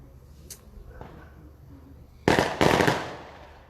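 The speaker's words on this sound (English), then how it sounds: "Fireworks." Fireworks and firecrackers pop once or twice faintly, then burst into two loud, crackling volleys near the end, sharp and close.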